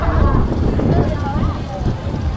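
Strong wind buffets the microphone in a continuous rough roar outdoors, with a person talking faintly beneath it.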